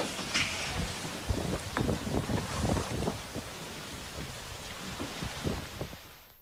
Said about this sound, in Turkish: saatte 93 kilometreye ulaşan şiddetli rüzgar kum fırtınasına neden oldu.